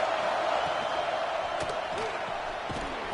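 A stadium crowd roars steadily and loudly against the offense at a college football game, Kansas at Notre Dame, with a play-by-play commentator talking over the sustained, dense noise.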